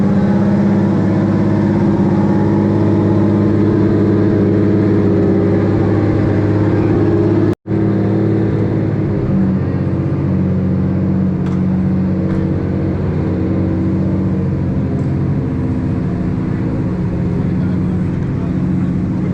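Race cars idling and running in the pits at Mondello Park circuit in Ireland, a loud, steady mix of engine drone and paddock noise that continues throughout, with a brief dropout partway.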